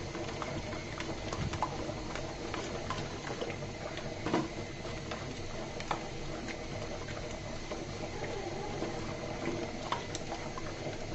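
Caramel cooking in a pan on a stove over medium heat, a continuous bubbling sizzle with scattered soft pops and clicks throughout, no talking.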